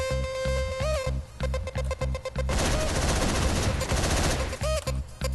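Gunfire in the Hotline Miami video game, sharp repeated shots crackling over pulsing synth game music, loud and close, with a dense burst in the middle of the clip.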